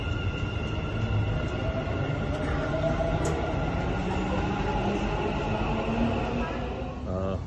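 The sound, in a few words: Dubai Metro train at OnPassive station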